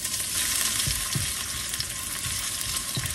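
Ginger frying in hot oil in a pan for chicken tinola, a loud close continuous sizzle broken by a few soft stirring thuds, with no talking.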